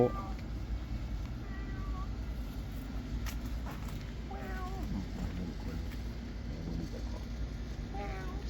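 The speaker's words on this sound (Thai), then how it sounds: "สมัยตะกี้นี่บ้านหลังนี้เพิ่นเลี้ยงแมวเด้" Cat meowing at a house where several cats are kept, a few short mews rising over steady outdoor background noise while a person talks nearby.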